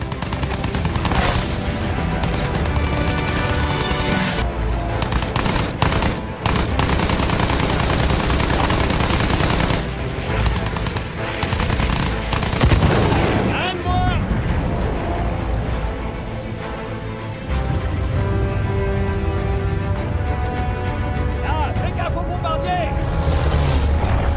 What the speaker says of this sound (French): Ça tire, ça tire.